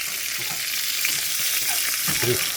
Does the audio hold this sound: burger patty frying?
yes